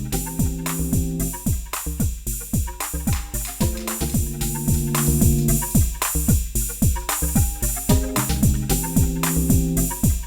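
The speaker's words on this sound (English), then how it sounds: "So my clean pattern, as always, I play first, which sounds like this." An Elektron Syntakt playing a clean synth pattern of plucky, rhythmic notes with percussive hits, looping evenly at steady volume with no talking.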